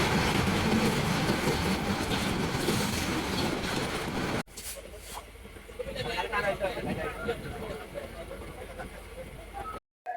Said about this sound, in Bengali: বাংলাদেশের প্রথম ডিজেল ইঞ্জিন লোকোমোটিভ